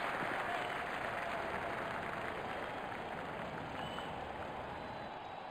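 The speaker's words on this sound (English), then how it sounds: "The crowd is exhilarated." Simulated stadium crowd in the Real Cricket video game, India versus Pakistan in the Asia Cup, applauding in a broad, continuous roar of clapping that stays steady and slowly fades slightly, with no commentary over it.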